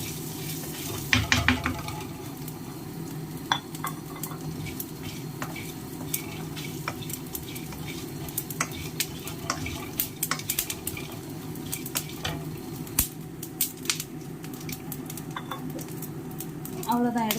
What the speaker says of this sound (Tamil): கொஞ்சமாக இதை வறுத்து தனியாக எடுத்துருவோம்.